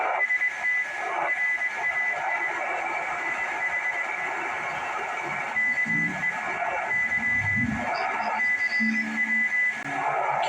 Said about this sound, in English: A whole lot of white noise on there.